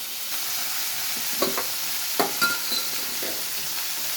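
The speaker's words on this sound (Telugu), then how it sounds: "చిక్కుడుకాయ ముక్కలు ఉల్లిపాయలు కూడా నూనెలో మగ్గిపోతాయి" Broad bean pieces and onions softening in hot oil in a pan, a constant close sizzle broken by a few short scraping stirs and light clinks.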